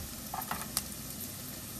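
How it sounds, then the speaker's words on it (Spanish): A chili con carne base gently sautéing in a pan over medium heat, a soft steady sizzle with a few faint taps of stirring, close and quiet. "la sofreímos por 1 o 2 minutos sin que se quemen"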